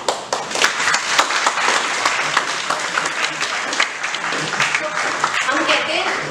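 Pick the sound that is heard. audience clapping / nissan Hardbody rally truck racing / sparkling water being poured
audience clapping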